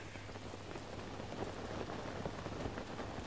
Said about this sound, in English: Fucking rain all day.